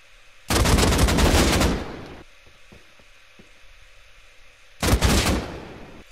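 Two loud, rapid bursts of AK rifle gunfire in Rust, the first lasting over a second and a shorter second burst after a quiet gap with faint clicks and movement.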